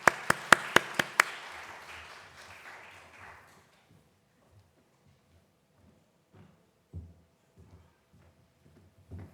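A congregation at a Sunday church service claps to welcome a pastor. A handful of sharp, loud claps at the start quickly trail off into quiet, and a few faint taps and shuffles follow.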